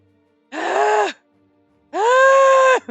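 A video game character lets out two long, strained breathy groans, loud and close, with a brief pause between them over a faint steady hum.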